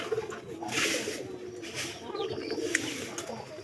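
Paired pigeons in a loft coo in soft, repeated throaty calls, close by, with a few brief chirps and faint background noise.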